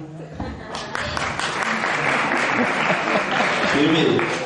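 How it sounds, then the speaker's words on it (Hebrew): Audience applause at a Kabbalat Shabbat gathering at Kinneret, a dense, steady wash of clapping that grows slightly louder over several seconds, with crowd voices mixed in. "שלום, מחיאות כפיים."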